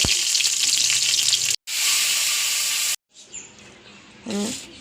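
Mustard seeds splutter and crackle in hot oil for a chutney: a loud, dense sizzle for about three seconds, then it cuts off, leaving quieter scattered pops and a brief clatter near the end.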